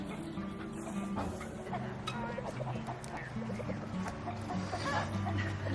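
A rooster clucks repeatedly in short, uneven bursts outdoors, moderately close, with faint background noise and no talking.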